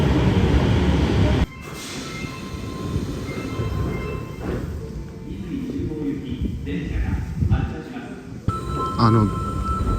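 A subway train on the Sendai line arrives at a shallow underground station: a loud rumble that suddenly drops, followed by lighter rolling and a faint squeal of wheels, then a closing thud and chime, with people talking nearby.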